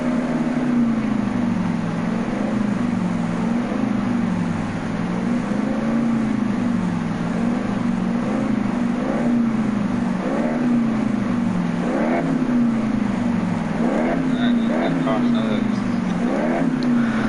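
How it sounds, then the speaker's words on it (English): An old-timer car's engine idles steadily in the Car Mechanic Simulator game, a continuous low hum with a gentle wavering pulse, running on its own throughout at a fairly loud level. "So this is the old timer car. We just finished it, and she sounds really good so far."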